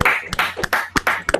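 Clapping from an audience for a performer at an open mic night: a handful of sharp, close claps in quick succession, about five bursts over a second and a half.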